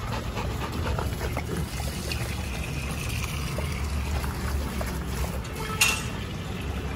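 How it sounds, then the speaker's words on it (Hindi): Two Rottweiler dogs lap water from a single bowl, a soft, continuous wet slurping with some panting, close but fairly quiet. "दोनों दोस्त एक बाउल में पानी पी रहे।"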